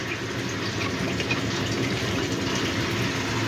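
Water is poured into cooking gravy, giving a steady, moderately faint rushing and splashing that runs continuously without a break.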